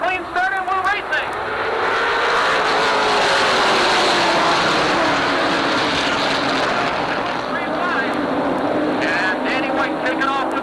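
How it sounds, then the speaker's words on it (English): Late model stock cars race at Jennerstown Speedway in Pennsylvania, a loud, sustained pack of engines roaring past near the track with shifting pitch, while an announcer talks over the racing. "they'll jump on the gas and will be filled with green flag racing for 25 laps"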